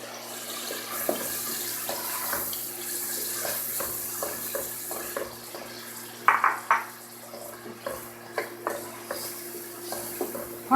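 Soft sizzling and frying of tomato paste in a pan with scattered clinks and stirring scrapes, steady low background hum throughout, no voices.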